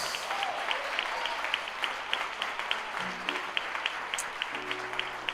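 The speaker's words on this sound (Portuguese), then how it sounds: "Aplauda Ele, queridos" A church congregation applauds at the close of a worship service, steady crowd clapping with regular sharp claps standing out, moderately distant and even, with a faint voice and soft tones underneath.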